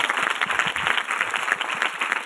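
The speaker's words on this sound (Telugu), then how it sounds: "చప్పట్లు కూడా దేవుని ఇస్తారు గట్టిగా." A church congregation claps loudly and steadily in a dense, continuous burst of applause with no talking over it.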